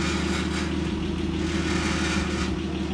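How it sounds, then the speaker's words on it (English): A BMW E30 idles with a steady low engine drone and a fine rattling buzz from an exhaust hanging too low, constant and close throughout. "the car's making like a really ugly rattling noise"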